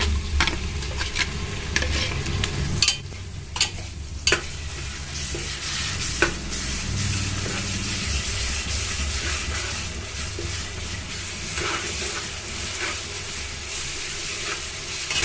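Ginger and garlic paste, 75 g ginger and 50 g garlic, sizzles steadily in hot oil for mutton biryani while a spoon stirs and scrapes the pan, giving sharp clatters through a continuous close frying hiss.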